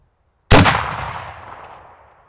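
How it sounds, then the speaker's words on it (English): One sharp, loud shot from a vintage rifle on an outdoor range at 200 yards, cracking suddenly and then rolling away in a long echoing decay. "All right, second shot at 200."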